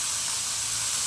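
Tap water runs steadily over onions being rinsed in a Marathi home kitchen, a broad close hiss with no break across about a second and no talking.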